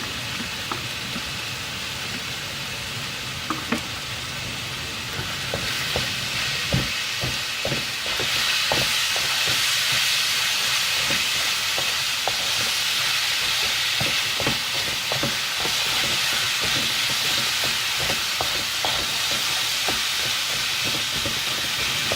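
Food frying in a pan for nasi goreng, a loud, steady hiss and sizzle with scattered crackles and pops that grows a little louder partway through.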